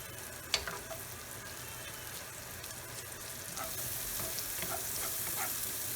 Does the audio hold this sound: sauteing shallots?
yes